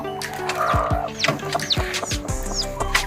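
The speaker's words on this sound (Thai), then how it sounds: "ได้ยินเสียงลูกเจี๊ยบ" A hen clucks in low, repeated bursts while newly hatched chicks peep in thin, high chirps close by, the two overlapping without any talk.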